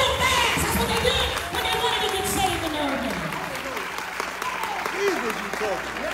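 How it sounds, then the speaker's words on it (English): Church congregation clapping hands during a tarrying-style service, steady sustained applause from a crowd with voices and singing mixed in throughout. "Somebody clap your hands like we're in a tarrying service."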